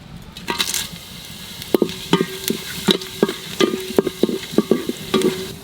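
Whole spices (cumin, bay leaf, dried red chilli) hit hot ghee in a pan, a sharp crackle followed by a quick series of spatters and stirring clinks, close and loud with no talk.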